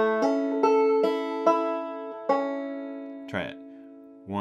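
Short two-finger banjo phrase from the tune "John Dye": several bright plucked notes in quick succession, a brief pause, then a slurred note and a final pluck, close and clear with no talking.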